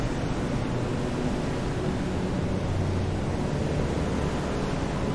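Strong wind and heavy seas roar steadily in the Silent Hunter 3 submarine game, a dense, constant low rumble of surf and gusts with no voices.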